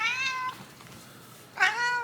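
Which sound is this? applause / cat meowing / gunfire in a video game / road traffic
cat meowing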